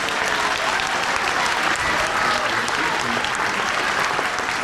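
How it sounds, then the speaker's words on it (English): Parents at a 5th and 6th grade winter instrumental music concert clap for the kids, a close, dense and even burst of applause filling the room throughout. "big round applause to our kids"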